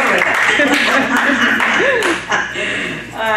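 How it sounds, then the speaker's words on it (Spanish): Church congregation applauding, a brief burst of clapping with voices mixed in and a short whistle-like rising tone, loud and close. "Dame un aplauso ahí al esfuerzo que hace Saile y Galilea"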